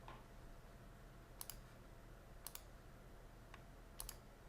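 Keys pressed on a TI-83/84 graphing calculator, three quiet clicks spaced about a second apart over a steady low hum, with no talking.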